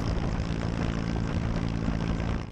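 Steady, loud propeller aircraft engine drone from a firefighting plane working an Ezine-area forest fire in Çanakkale, a continuous close roar with no breaks.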